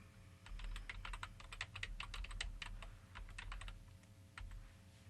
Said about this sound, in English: we're going to type an email address in here